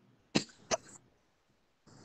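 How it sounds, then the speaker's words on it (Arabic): A person coughs twice in quick succession to clear the throat, sharp and close, followed by a faint rustle in an otherwise quiet room. "لكن انا بكح عشان انظف زوري"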